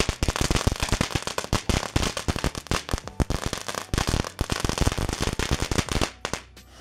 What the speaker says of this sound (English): magic whips, one of my favorite novelties,